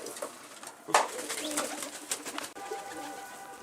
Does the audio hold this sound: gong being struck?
no